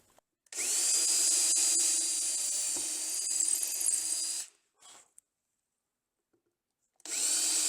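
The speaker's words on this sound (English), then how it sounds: "Then I'll drill the holes for the bolts." A power drill bores bolt holes for drawer storage in an air fryer cabinet build: a loud, high whine runs for about four seconds, a short burst follows, then after a pause the drill starts up again.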